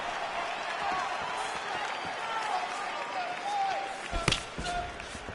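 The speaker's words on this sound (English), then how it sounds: "could you hear the reaction from the crowd as another outside leg kick lands?" A crowd in the UFC 7 fighting game reacts to an outside leg kick with a steady, moderately loud roar and cheering, with a sharp impact-like burst near the end.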